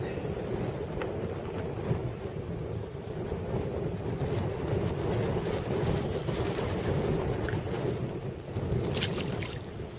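Wind buffets a kayak out on the water, producing a continuous rough rumble and gusty roar, with a brief sharper burst near the end.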